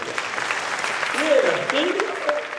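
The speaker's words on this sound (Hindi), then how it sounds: "जोरदार ताली ठोको" Applause from the audience at a national interfaith council gathering, a broad steady clatter of clapping that runs through the clip while a voice speaks over it.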